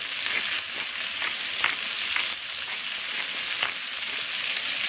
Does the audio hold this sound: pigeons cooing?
no